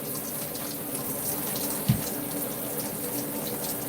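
Tap water runs steadily into a sink to soak oxtails in salted water, a continuous close hiss and splash with one small knock partway through and no talking.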